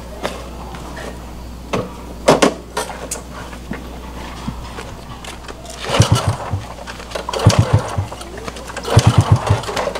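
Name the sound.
stalled motorcycle engine failing to start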